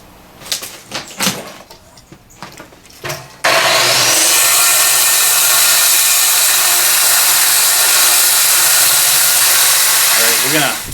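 A power saw cuts a chunk off the top of an old wooden barn beam. After a few scattered knocks and shuffles, it starts abruptly and roars loud and continuous, up close, to the end.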